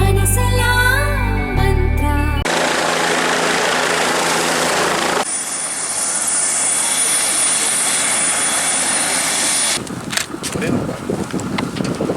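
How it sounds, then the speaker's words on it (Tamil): A helicopter arrives in Ooty in the Nilgiris for an election campaign, its loud, steady rotor and turbine roar filling the clip, with a sharp shift in the sound partway through and brief sounds before it starts. "அமைச்சர் உதயநிதி ஹெலிகாப்டர் மூலம் ஊட்டிக்கு வந்தார்"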